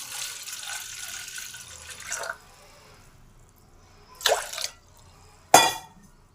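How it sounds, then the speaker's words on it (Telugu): A little water is poured into a kitchen bowl while preparing a liver fry: a soft running stream at first, then two short, sharper splashes after a quiet pause. "గిన్నెలోకి కొద్దిగా వాటర్ వేసుకున్నాము"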